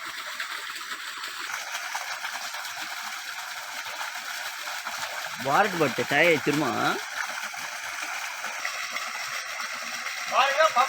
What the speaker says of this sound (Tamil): பாருங்க, பம்ப் செட்லேருந்து தண்ணி வருது.